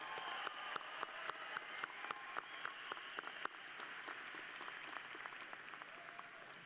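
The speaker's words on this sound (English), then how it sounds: "Let's acknowledge them by giving them a big round of applause." Applause from a law school commencement audience, a dense wash of clapping hands with sharp individual claps standing out, steady at first and gradually thinning, heard from a distance in a large hall.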